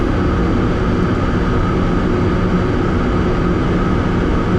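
Inside a Boeing 747 cockpit on approach to the runway on a clear day: a steady, loud, broadband engine and airflow drone holds without a break, with no talk.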